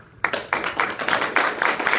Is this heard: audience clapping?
yes